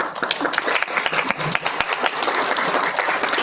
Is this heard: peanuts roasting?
no